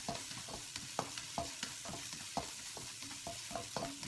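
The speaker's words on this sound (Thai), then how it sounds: "กระเทียมกับนั้นนะคะ ลงเลยนะจ๊ะ ผัดไปนะคะให้มันหอมๆนะคะ" Garlic stir-fried in hot oil, a soft continuous sizzle broken by regular rhythmic scrapes and taps of a spatula against the pan, close by and fairly quiet, with no voices.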